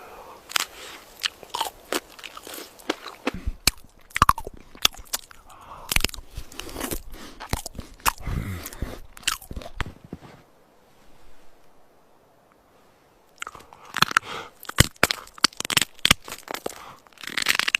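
Biting and chewing an asada taco outdoors: repeated loud, close crunchy bites and chewing in irregular bursts, a quiet pause midway, then more chewing, with faint wind or surf in the background and no talking.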